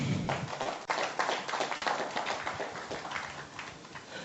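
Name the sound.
round of applause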